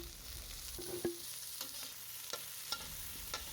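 Ingredients are stirred into a sautéed spice paste in a pan for a sweet, sour and spicy fish dish, with a quiet steady sizzle and a few sharp spatula scrapes and taps.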